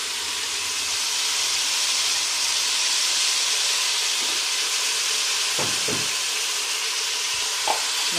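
Steady, loud hiss of food sautéing in a pan for a creamy pasta dish, with salt and pepper just added; a few soft stirring scrapes and clinks break through the continuous sizzle, and nobody speaks.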